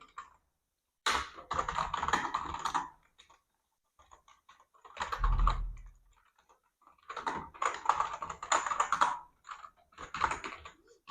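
Typing on a computer keyboard while entering text in Notepad, bursts of rapid clicking keystrokes separated by short pauses, close and fairly loud with no talk.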